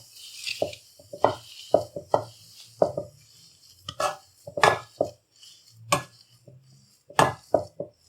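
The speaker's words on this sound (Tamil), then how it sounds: "இப்போ இந்த மேஷர் வச்சு இதை நல்லா மேஷ் பண்ணிக்கிறேன்." Boiled potatoes are mashed with a masher in a pot, heard as irregular dull thuds and soft metallic knocks in clusters, close by, with brief pauses and no talking.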